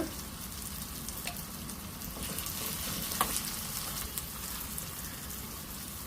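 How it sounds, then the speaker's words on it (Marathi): Tempering for dahi tadka sizzles steadily in a pan with chopped tomato, asafoetida and turmeric, a continuous crackling fry with occasional sharper pops, close and fairly loud, with no talking. "आता छान मस्त तडका झालेला आहे तयार"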